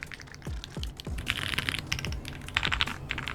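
Keystrokes on a computer keyboard from a personal collection clack in quick irregular bursts, some sharper and brighter, close up with no talk.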